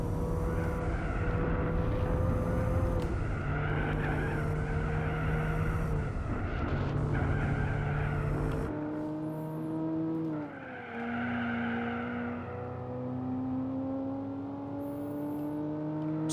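Race car in Gran Turismo 4 during a Nürburgring endurance race: a loud, high engine note with turbo whine climbs and drops through gear shifts, then changes to a different camera view with quieter exhaust and turbo sound.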